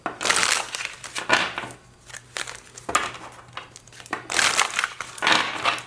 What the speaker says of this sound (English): Let it fall out the deck. Let's do a shuffle.